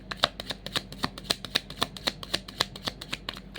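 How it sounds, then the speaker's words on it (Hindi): A mini deck of cards is shuffled by hand in a quiet room, giving a fast, even series of crisp snapping riffles close to the listener. "आज हमने ये मिनी डेक लिया है जो हाथों में भी थोड़ा कम ही आ रहा है"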